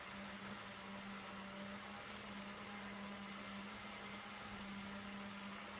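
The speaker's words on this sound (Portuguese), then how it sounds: "Estão ouvindo o liquidificador ou não?" A blender whirring steadily while mixing a whey protein shake, a continuous dense roar with a low hum, heard from a short distance and running without pause.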